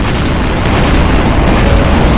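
A cannon fires in the Minecraft video game, a heavy, loud, sustained booming roar that fills the whole moment without pause.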